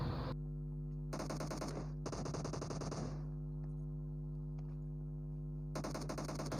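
Rapid automatic gunfire in the mobile battle royale game PUBG Mobile, with several dense bursts separated by short pauses and a steady game soundtrack drone underneath.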